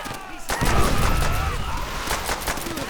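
Mounted machine gun fire in Call of Duty: World at War, a dense burst of rapid shots and booms after a brief quieter moment, loud and continuous through the rest.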